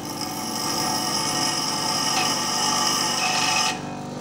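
A steel file, a high-carbon knifemaking steel, is pressed against a power grinder for a spark test, giving a continuous harsh grinding whine at close range that holds steady for several seconds before cutting off abruptly near the end.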